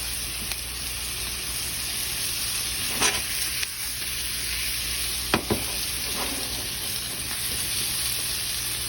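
Mushrooms sizzle in a skillet alongside onions and garlic for a keto brunch dish, giving a steady, moderate frying hiss with a few brief clinks of stirring near 3 and 5 seconds.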